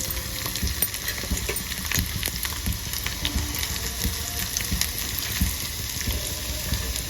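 Finely chopped onions fry in hot oil in a pan for an omelette, a loud, steady crackling sizzle close by, broken by occasional stirring scrapes, with no talk.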